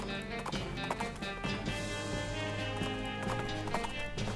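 Horse hooves clopping steadily across a wooden log in the Western video game West of Loathing, a continuous close rhythm of hollow knocks over a busy background of game music.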